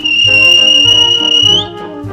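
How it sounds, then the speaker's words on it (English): A railway guard's whistle gives one long, loud, steady shrill blast that lasts over a second and a half before fading. A low, rhythmic rumble sits under it. "Then the guard blew his whistle."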